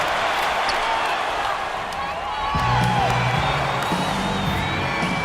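Arena crowd noise from an NBA 2K15 basketball game, a steady roar with whoops and cheers swelling after a dunk, running under an announcer's commentary throughout.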